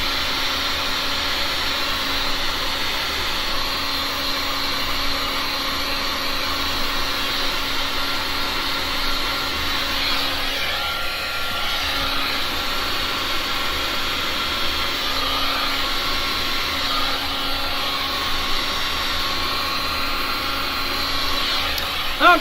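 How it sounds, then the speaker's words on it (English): A heat gun blows hot air over a resin painting in a steady, loud, continuous roar that holds without a break for the whole stretch. "I'm going to blow a little bit of heat on that just to get the lines a little bit more organic"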